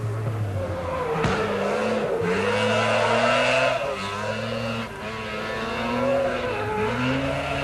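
Rally cars in the 1983 Alpine Rally race round a tricky bitumen circuit, engines droning and rising and falling through gear changes, with tires squealing repeatedly as they corner. The sound is loud and continuous and recorded from trackside.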